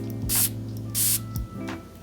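Three quick, sharp hissing sprays from a Lattafa Atlas perfume atomizer onto skin, close and crisp, each burst about a quarter second long, separated by short pauses.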